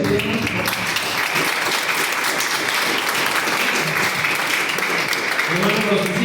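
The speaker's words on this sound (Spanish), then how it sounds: "También voy a pedirles un aplauso" Audience applause at a conference against progressivism in Perote, a dense, loud sustained clapping from a crowd lasting several seconds, with voices mixed beneath it.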